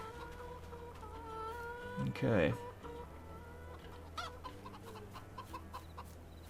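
Chickens cluck in the Farming Simulator 22 video game, a soft continuous flock murmur with a louder squawking burst near the middle, under a steady low hum and a brief spoken word.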